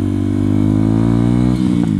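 A motorcycle engine, a non-original replacement unit, idles loud and close with a steady, even throb that stays constant throughout, no voices over it.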